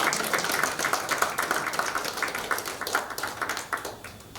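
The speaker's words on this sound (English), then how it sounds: "I thought we were going to clap hands." An audience at a university inaugural lecture in a mechanical engineering department claps hands, a steady patter of many claps that fades slightly toward the end.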